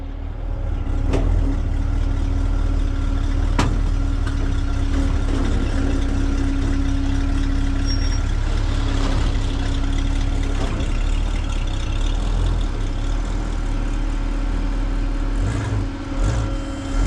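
A 1966 Ford Mustang's 289 V8 idles steadily and loudly nearby, a continuous low rumble with a constant hum, and a couple of sharp clicks or knocks early on.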